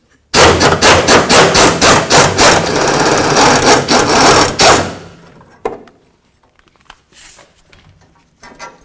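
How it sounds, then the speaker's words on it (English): A 15mm socket on an extension works the fuel tank strap bolts of a 1988–2000 Chevy C/K1500 truck, giving loud, rapid, rhythmic ratcheting strokes for about five seconds, then a few faint scattered clicks. "I'm going to use my 15mm socket with an extension to remove this."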